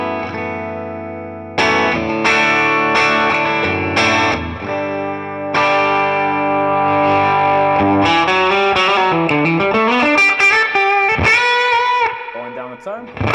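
Electric guitar, a Rock and Roll Relics model, played with its volume knob rolled down, giving a loud, distorted, effects-laden run of chords and single notes with a sustained tone throughout.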